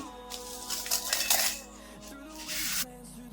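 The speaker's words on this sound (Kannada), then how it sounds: "ಇವಾಗ ಒಂದು ಜಾರ್ಗೆ ಹಾಕೊಂತಾ ಇದೀನಿ" Dried red chillies and urad dal tipped into a metal grinder jar, giving light clattering rattles in two bursts with a brief pause between, fairly close and alone.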